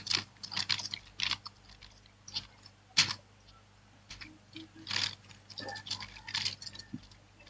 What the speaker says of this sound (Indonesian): Saya akan mengetik sistem administrasi server.